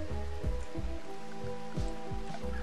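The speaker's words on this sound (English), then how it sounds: "It rains a lot here." Rain falls steadily in the colony game Rimworld, a soft, even patter with scattered heavier drops, quiet and alone.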